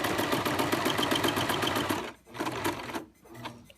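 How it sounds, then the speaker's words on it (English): A sewing machine stitches an apron in a fast, steady whir for about two seconds, then runs in two shorter bursts with brief pauses between them, close and fairly loud. "I'm just going to continue sewing around here all the way"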